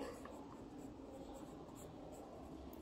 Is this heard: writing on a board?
yes